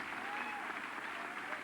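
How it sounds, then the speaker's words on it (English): Brief audience applause at a 1987 vaudeville-style stage show, a faint, steady wash of clapping over the short stretch. "Give her a nice round of applause."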